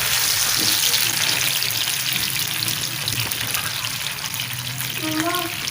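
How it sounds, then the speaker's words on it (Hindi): Tomato paste, chilli and other spices hit browned onions in a hot pan for an arvi curry, giving a loud, steady, close sizzle that fills the whole stretch with only slight dips. "प्याज हमारा ब्राउन हो गया, अभी टमाटर का पेस्ट हम डाल देते हैं"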